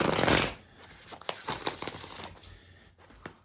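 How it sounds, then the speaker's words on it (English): Oracle cards from a Bone and Earth deck are shuffled by hand, with a short burst of riffling followed by quieter intermittent shuffles and soft taps, close and faint with no talking. "And I'm shuffling backwards, so let's fix this."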